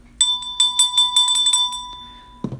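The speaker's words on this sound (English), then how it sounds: "I'm going to ring the bell." A small bell is struck several times in quick succession, bright ringing tones with a sustained hum beneath, followed by a soft thud near the end; no voices.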